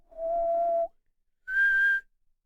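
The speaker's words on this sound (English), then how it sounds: "when I whistle its pitch at it, it'll whistle it back because it'll echo in the plate" Two sustained whistled tones echoed by a resonant metal plate, a lower one followed after a pause by a higher one, each clear and steady with a slight ringing quality.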